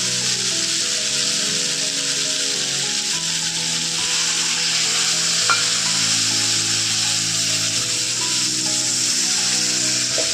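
Fried spice paste for a chala fish curry sizzles and bubbles steadily in a pan, a loud continuous frying hiss with faint scraping and stirring underneath, no voices.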